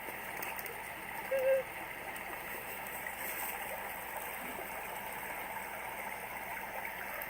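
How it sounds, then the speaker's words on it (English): Water rushes steadily along a stream running through Moab, Utah, a constant broad gurgling wash with a brief faint chirp early on. "Doesn't it sound nice how the water, how it runs through the town"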